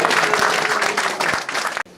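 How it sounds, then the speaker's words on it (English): Dense audience applause at the SA Music Hall of Fame induction holds steady and loud, then cuts off abruptly near the end. "Round of applause."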